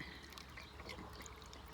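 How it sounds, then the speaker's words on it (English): Faint trickling and pouring water runs steadily into a chicken waterer, quiet and close, with soft splashing and no talking. "and it goes down there, and it fills, and the chickens drink."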